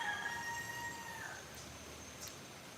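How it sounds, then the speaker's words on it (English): Rooster crowing outside a home, a drawn-out tonal call at the start, faint and distant over a steady background hiss. "There's like always a fucking rooster outside my place."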